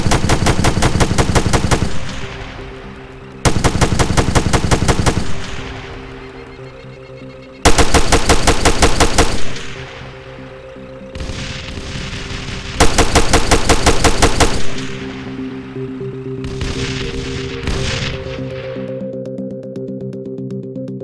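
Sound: heavy weapon gunfire with muzzle flashes in Arma 3 video game

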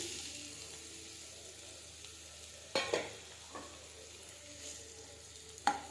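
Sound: onions frying for chicken gizzard curry

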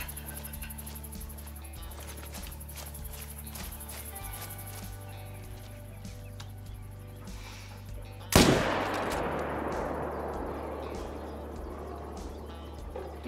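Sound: rifle shot at a lion in the video game Call of the Wild

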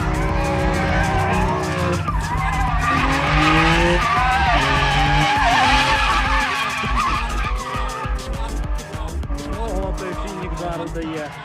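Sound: Camaro V6 car accelerating hard, full throttle

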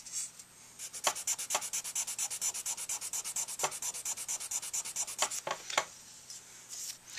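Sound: sanding mouthpiece with fine sandpaper

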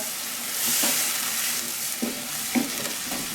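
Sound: vegetables stir-frying with mapo tofu sauce

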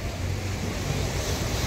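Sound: wind blowing

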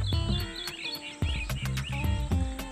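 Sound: bird calling

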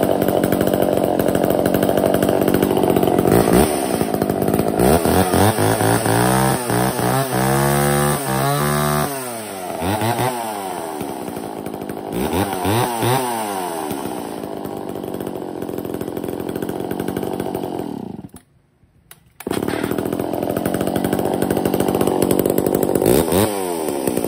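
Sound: Japanese domestic chainsaw cutting firewood

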